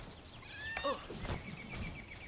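A sheep-like creature in the video game Palworld lets out a single quavering bleat, faint and at mid distance, over quiet game background sound.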